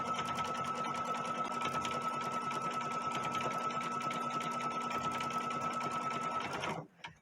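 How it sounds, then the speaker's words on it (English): A close embroidery sewing machine hums and clatters steadily, running a back-and-forth bean stitch on an applique design, then stops abruptly near the end. "This time we use the stitch that has kind of like a back and forth motion. So see, it's doing a bean stitch is what it's doing."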